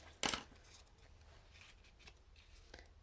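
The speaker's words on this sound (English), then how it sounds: "I'm just going to snip it in half." Scissors snip once through card stock during a card-making class, a single crisp cut near the start followed by faint rustling of paper.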